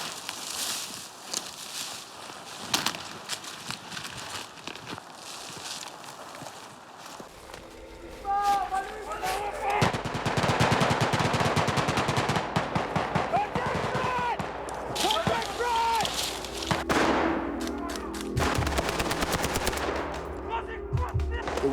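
Sustained gunfire during a military training exercise, with rapid automatic bursts and scattered shots that build after a quieter opening, mixed with movement and brief voices in the background.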